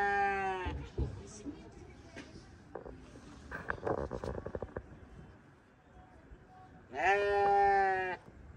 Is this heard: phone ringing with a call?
no